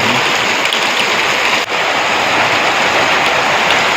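Heavy monsoon rain drums on a tin roof in Botad village, a loud, unbroken roar of close impacts that barely dips once.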